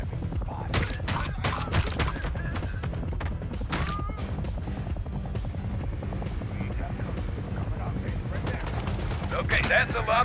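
Bursts of rapid gunfire crackle in the top-down arcade helicopter shooter Cleared Hot, with helicopter rotor noise and explosions throughout and a player talking over the action.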